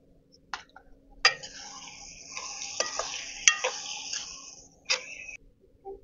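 Drumsticks and curry leaves tip into a simmering egg curry being cooked outdoors, with a few sharp clanks of a ladle against the pot and a soft sizzle between the strokes.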